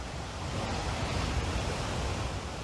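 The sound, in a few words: lahar-laden water falling at Bahi-Bahi Falls waterfall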